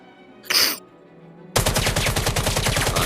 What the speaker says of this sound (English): now we're gonna shoot until it's empty